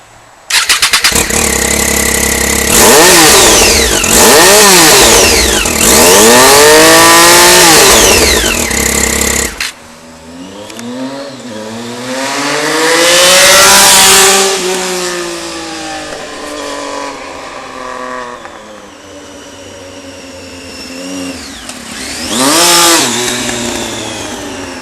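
A Triumph Street Triple motorcycle with a full Remus HexaCone exhaust revs loudly and close by, first with a harsh droning tone, then after a sudden drop several rising and falling throttle blips with quieter idle between them.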